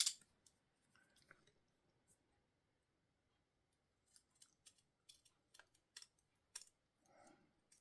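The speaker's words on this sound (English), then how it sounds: "I'm just going to use these little scissors" Quiet, sporadic snips from small scissors cutting paper for a journal page, in short irregular bursts with soft rustling between them.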